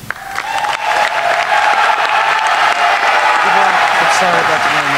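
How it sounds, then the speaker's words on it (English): A political rally crowd applauds and cheers a governor candidate's introduction: loud, continuous dense clapping with whoops and voices mixed in, plus a sustained tonal sound running underneath throughout. "Let's give it all a warm round of applause to Hamza Abu-Ghofa."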